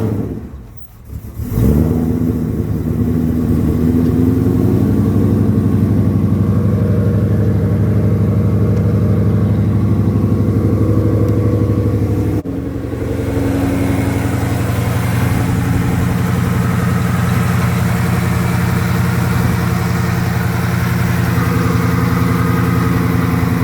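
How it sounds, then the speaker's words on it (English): A car engine cold-starting on pump E85 with a Gates RPM belt fitted, cranking briefly and then catching into a loud, steady idle that holds close by for over twenty seconds, with a slight change in tone midway and no talking. "Let's fire it up. So, cold start E85"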